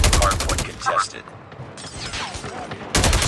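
Rapid bursts of gunfire in the Call of Duty Mobile multiplayer Hardpoint mode, loud and close, with a dense flurry of shots at the start, a quieter stretch of distant fire, then heavy firing resuming at the end.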